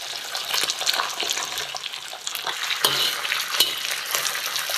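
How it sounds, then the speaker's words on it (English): Garlic, shallot and chili hit a hot iron wok alongside fish, sizzling loudly and continuously with crackling bursts and stirring sounds, no voices. "add in all the spice,"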